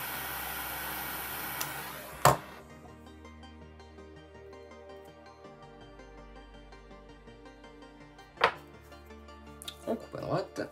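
Paracord bracelet strand being snipped at one end with a sharp cutting tool, a single crisp snip standing out near the start, with later clicks and handling noises over a quiet background.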